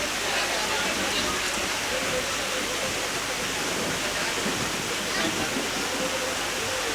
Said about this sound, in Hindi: बारिश बहुत ज्यादा हो गई।